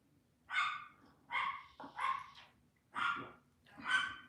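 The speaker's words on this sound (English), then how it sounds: "Dog's going crazy." A dog barks five times in an irregular rhythm, each bark a short sharp burst, moderately close in an otherwise quiet room with a low background hum.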